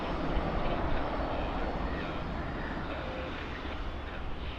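A Boeing airliner landing at Birmingham Airport, heard as a broad, distant roar of jet engines that holds steady for a few seconds.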